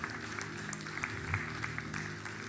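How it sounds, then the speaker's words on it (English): Audience applause at a family conference session, a steady patter of clapping held at moderate level for the whole stretch, with a low sustained tone running underneath. "A round of applause for Mr. Coker."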